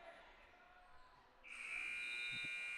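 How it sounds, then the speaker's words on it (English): During a high school basketball game, the game clock buzzer sounds at the end of the third quarter: a steady electronic tone that comes in partway through and holds to the end, loud over faint gym murmur. "y'all probably could hear a little bit of the buzzer right there"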